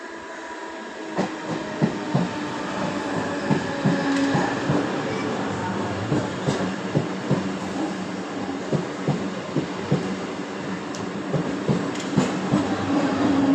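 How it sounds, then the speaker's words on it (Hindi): A slow local commuter train bound for Karjat pulls into platform 1 of a station. A steady rolling rumble carries scattered clicks and clanks of the wheels throughout, with no speech. "4:33 की कर्जत जाने वाली धीमी लोकल थोड़े ही समय में प्लेटफॉर्म क्रमांक 1 पर आ रही है।"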